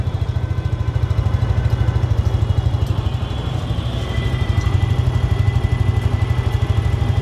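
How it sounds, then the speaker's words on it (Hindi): A 2022 Suzuki Gixxer SF 155 motorcycle engine idles steadily with a low, even putter and light mechanical clatter, close by, with no talking. "स्टार्ट करके इसको एक बार एग्जॉस्ट नोट भी आपको सुना देते हैं।"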